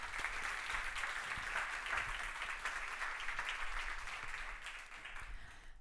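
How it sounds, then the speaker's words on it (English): An audience at an award-show ceremony applauds steadily, a sustained wash of many hands clapping at moderate distance that tapers slightly toward the end. "One more round of applause, please."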